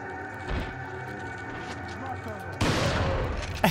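Shotgun blast in the survival-horror video game Resident Evil 4, a sharp burst landing late amid busy game sounds and music, with people talking over the action.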